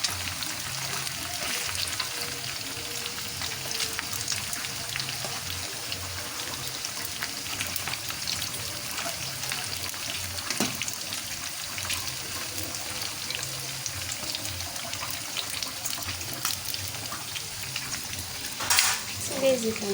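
Banana chips and meat fry in boiling oil, giving a steady, dense sizzle and crackle that continues evenly throughout, close and fairly loud, with faint bubbling and no talking.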